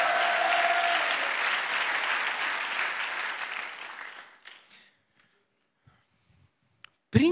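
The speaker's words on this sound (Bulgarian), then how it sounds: "А, ръкопляскането ви днес отнема само телевизионното време" A church congregation applauds loudly for several seconds, then the clapping thins to a few scattered claps and fades into near silence, broken by a short sharp noise at the end.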